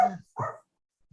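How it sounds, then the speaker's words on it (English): A dog barks twice in quick succession, close by and fairly loud, while a person is talking. "Oh, and there goes my dog."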